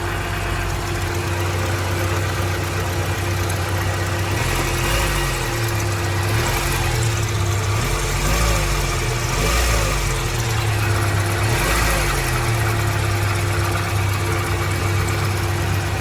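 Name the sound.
Toyota Corolla engine idling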